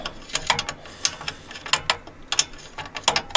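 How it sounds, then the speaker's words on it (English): A ratchet wrench clicks rapidly in short bursts while turning a bolt on the radiator shroud of a 2006 Jeep TJ, close and crisp with brief pauses between strokes. "you got to get your wrench in there, and it's back in there"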